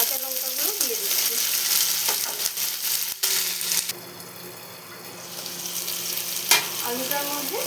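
Chopped potatoes and green chillies fry in a pan for a kalmi shak charchari, giving a steady sizzle with stirring scrapes, a brief clatter and some running-water noise in the background.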